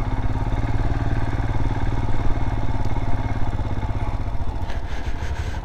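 A motorcycle rides a snowy, icy mountain road in freezing conditions between Tabo and Kaza, its engine chugging steadily and loudly throughout with a rough, clattering pulse.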